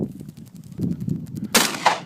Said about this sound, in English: Each muffled gunshot announces another target down.